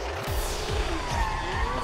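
A drift car with a large-displacement engine, driven by a 12-year-old pro drifter, skids with rising tire squeal and repeated engine revs in short bursts, loud and close.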